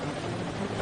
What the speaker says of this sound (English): An emergency helicopter arrives and hovers above